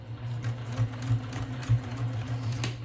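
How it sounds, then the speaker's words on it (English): Sewing machine stitching a purse strap onto fabric runs close and steady, its motor humming with a rapid repetitive needle clatter and a few brief surges in speed, with no voices. "So let's go to the sewing machine. Okay, so here we are, and we're going to start to sew."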